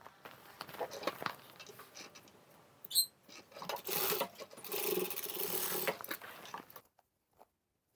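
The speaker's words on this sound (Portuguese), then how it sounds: "Vou fazer uma costura, vou passar uma costura pé de máquina aqui" Sewing machine stitching across the corners of a small fabric bag, a steady mechanical whir in short runs with a brief clack, moderately quiet and ending in silence.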